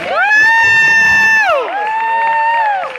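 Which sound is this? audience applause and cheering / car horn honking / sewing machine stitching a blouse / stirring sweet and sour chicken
audience applause and cheering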